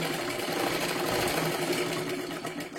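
A sewing machine runs continuously while stitching a princess blouse, a close, steady mechanical whirr with fast needle chatter and no pauses.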